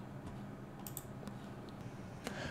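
Soft, quick clicks from a computer mouse during PCB layout work, a few scattered taps over a quiet background hum.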